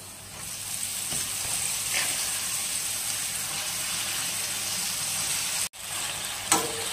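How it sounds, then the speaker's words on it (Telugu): Amaranth greens fry in a pan, giving a soft, steady sizzle that continues throughout, broken by a short dropout and a light clink near the end. "చూడండి తోటకూర మగ్గుతుంది."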